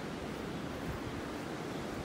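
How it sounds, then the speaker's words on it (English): Ocean waves washing onto a beach in North Naples, Florida on a calm winter morning, a continuous soft roar of surf with a faint wash of wind. "Got a little bit of wave action out there this morning."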